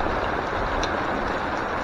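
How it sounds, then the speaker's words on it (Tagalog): Continuous heavy rain falls on a farm in the afternoon, a dense, even hiss of drops close by and unbroken throughout, with no talking. "tuloy-tuloy pa rin ang ulan"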